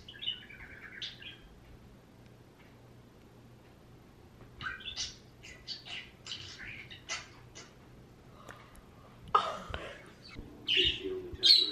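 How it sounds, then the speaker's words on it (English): Small pet birds chirp and tweet in short, scattered bursts, fairly close, over a quiet background hum with occasional faint voices. "you already seen the birds are awake and active"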